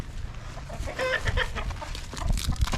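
Hens in a winter garden after an arctic blast, with snow on the dead grass, cluck and squawk in short bursts, fairly close and loud, with a few busier peaks toward the end.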